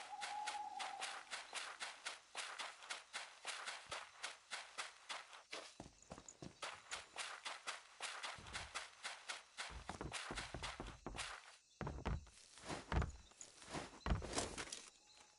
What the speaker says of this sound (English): Thought I heard footsteps that weren't ours.